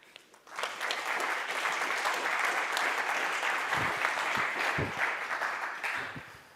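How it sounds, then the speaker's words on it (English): An indoor audience at a blockchain conference breaks into warm applause welcoming panelists onto the stage, steady clapping that swells quickly and then tapers off, with a few thumps and faint voices underneath. "give them a warm applause"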